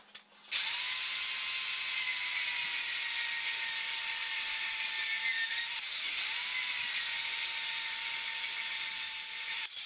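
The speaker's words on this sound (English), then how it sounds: "I'm gonna cut it off with the bandsaw." A bandsaw cuts a metal part held in a vise for a custom tie rod end on an MR2, whining loud and steady for nearly ten seconds with a brief dip in pitch midway.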